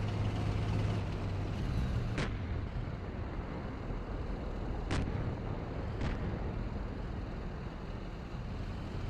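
Incoming tank fire in Steel Beasts Pro: a low continuous rumble of vehicles and battle noise, punctuated by three sharp distant impacts spaced a few seconds apart, with no talking.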